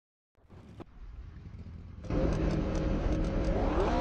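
Race car engines in a racing video game rise from silence into a building drone, then surge to a loud, full roar as the pack accelerates off the start at the Charade track.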